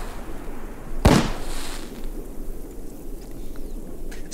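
A single sharp gunshot in the Escape the Backrooms video game, one loud crack followed by a short ringing tail over a steady low background rumble, no talking.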